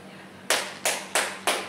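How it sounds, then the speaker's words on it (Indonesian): A group claps in the tepuk nyamuk clapping game: four sharp, evenly spaced claps in a steady rhythm, close and fairly loud, with no talk over them. "Tepuk nyamuk."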